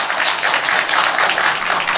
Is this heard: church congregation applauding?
yes